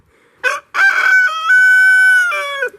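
A big rooster at a backyard chicken coop crows loudly and close by, opening with short clucks before a long, drawn-out cock-a-doodle-doo that trails off at the end.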